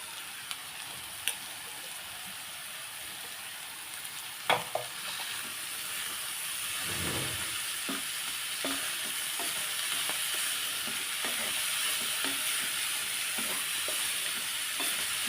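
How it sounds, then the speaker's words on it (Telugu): Boiled broad beans toss with onion greens and fenugreek leaves in a frying pan, giving a soft, steady, close sizzle with scattered spatula scrapes and stirring taps. "బాగా కలుపుకోవాలి ఉల్లికూర కూర ఇవన్నీ మంచిగా మిక్స్ అయ్యేలాగా కలుపుకోవాలి"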